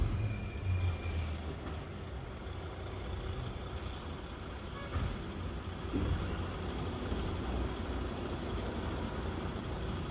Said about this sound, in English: Yeah, it's another truck.